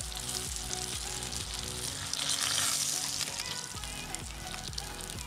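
Crumbed red rock cod frying golden brown in hot oil: a steady, close sizzle with crackling bubbles that swells briefly midway, with no one speaking.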